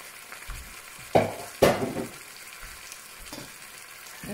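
Chicken pieces go into browned onions in a karahi, sparking a loud sizzling burst followed by continued frying hiss, with a couple of sharp stirring clanks.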